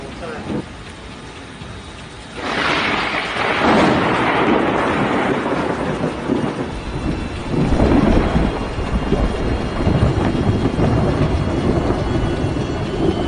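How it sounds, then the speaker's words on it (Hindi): Heavy rain from Cyclone Amphan roars steadily while thunder crashes in two big swells, the first rolling on for several seconds, the second hitting a few seconds later; lightning strikes a coconut tree. "तेज बारिश के साथ बिजली कड़की और नारियल के एक पेड़ पर जा गिरी"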